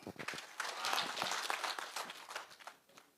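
Audience applause at a Jukwaa la Usalama security meeting in Nyamira hosted by CS Murkomen and police chiefs, a steady crowd of mixed claps that stays loud for about three seconds before starting to thin.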